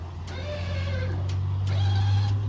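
The electric lift on a John Deere X570 lawn tractor whirs as it raises a mounted front snowblower, a steady motor drone over the idling tractor, with a few short clicks punctuating the hum.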